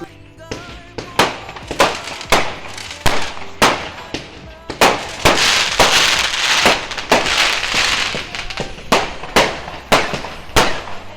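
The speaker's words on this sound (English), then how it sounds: "So there's like loads of fireworks going off." Guy Fawkes Night fireworks on November 5th burst in a rapid series of sharp bangs and crackles, some near and loud, with a dense crackling barrage mid-way and more separate pops toward the end.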